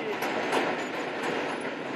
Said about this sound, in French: Il y a le métro qui passe en haut